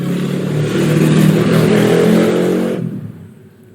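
Cars and motorcycles pass along a road beside a house, a loud continuous traffic rumble with engines revving that fades out near the end.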